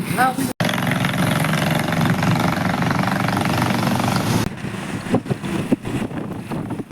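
A motorcycle engine idles with a steady low rumble for several seconds, then cuts out, leaving wind buffeting and faint handling noises.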